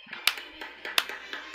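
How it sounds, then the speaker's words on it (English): A slow clap before a Rams kickoff: a few sharp, widely spaced hand claps at an unhurried, steady pace, with lighter taps and faint background noise between them. "Slow clap it out. That's the Ram Rules."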